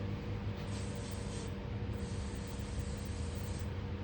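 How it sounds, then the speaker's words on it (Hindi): Hair spray hisses onto styled, back-combed hair in a long steady burst with a brief pause partway through, close and fairly loud over a constant low background. "देन लेना है हेयर स्प्रे"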